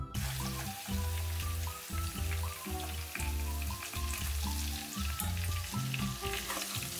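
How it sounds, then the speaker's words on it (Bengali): Potatoes fry in hot oil for chicken dopiaza, a steady close sizzle that runs the whole time under a loud, tonal background layer. "দেখো, এটা বেশ লাল লাল করে আলুগুলো ভাজা হয়ে গেছে।"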